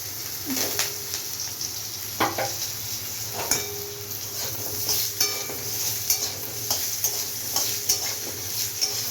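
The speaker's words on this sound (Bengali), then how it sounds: "আলুটা একটু ভাজা ভাজা, অল্প করে একটু ভাজা ভাজা করে নিই।" Potato pieces frying in a pan with nigella seeds for a light fish curry, a continuous close sizzle punctuated by repeated scrapes and knocks of a stirring spoon against the pan.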